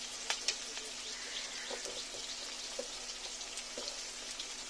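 Prawn curry frying in a pan gives a steady, crackling sizzle with scattered sharp pops and spits throughout.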